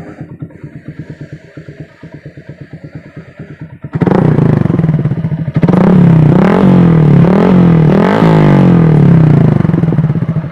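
Yamaha MX King 150 with a Tridente F20 Raptor exhaust idling with a lumpy, pulsing beat, then revved hard in several loud, close bursts that rise and fall, no voices.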